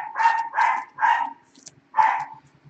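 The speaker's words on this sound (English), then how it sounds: "my wife's home and the dog's going crazy" An excited dog barks four times in a quick, loud series nearby, with a short pause before the last bark and no talking over it.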